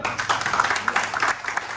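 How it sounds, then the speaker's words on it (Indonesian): Audience at a presentation event claps together, a steady, dense patter of many hands that holds for a couple of seconds without speech on top. "Tepuk tangan untuk beliau"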